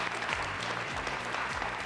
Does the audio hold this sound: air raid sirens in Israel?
no